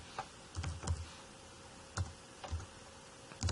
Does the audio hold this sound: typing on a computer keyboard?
yes